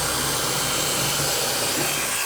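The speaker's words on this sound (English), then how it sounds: "Let me just drill my pilot hole right through the wood" A power drill bores a pilot hole through pine wood during a sink installation, a continuous loud whirring grind that holds steady and close for the whole stretch, with no talk over it.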